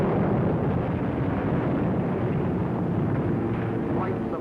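Bombs exploding over Rotterdam from German bombers in a 1943 wartime documentary, a continuous dense roar of blasts and rumble with aircraft drone.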